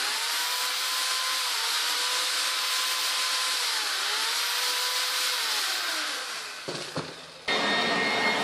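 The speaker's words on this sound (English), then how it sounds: "You can clear your backyard with electric blower." Electric leaf blower running steadily in a backyard, a loud continuous whine with wavering pitch that holds for about six seconds, then dips and cuts out briefly before surging back at full strength.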